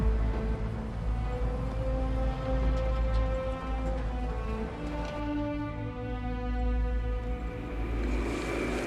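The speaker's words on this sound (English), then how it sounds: "You hear that? Yeah, I think that's our plane." An airplane approaches overhead in an action film, heard as a steady, deep engine drone with humming tones that holds for several seconds at a fairly even loudness, with no talking over it.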